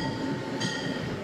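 A commuter rail train in Mattapan pulls into the Blue Hill Avenue station, a steady rumbling rail drone with a brief brighter hiss partway through, close and continuous with no voices.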